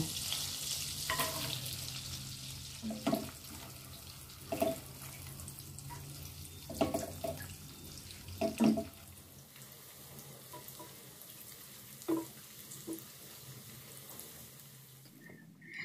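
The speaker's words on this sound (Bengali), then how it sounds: "এবার আমি তিন প্রকার বাদাম আর কিশমিশ একসাথে ভেজে নিব" Nuts and raisins frying in ghee, a soft, low sizzle broken by sharp clinks and stirs of a spoon against the pan, then quieter frying alone.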